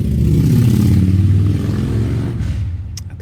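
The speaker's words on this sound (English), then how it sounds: "Sorry about the motorcycle." A motorcycle engine revs loud and close, with a rough low roar that holds steady, then eases off and fades toward the end, no talking over it.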